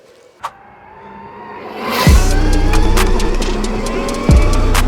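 An electric motorbike, the Superhuman Champ on its first ride on a wet, slippery day, powers up with a rising whine that becomes a loud, steady electric hum, and two low thuds stand out.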